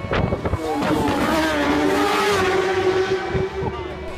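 Racing motorcycles roar past at the Isle of Man Tourist Trophy, a loud, continuous engine whine with rising and falling pitch, under a voice talking.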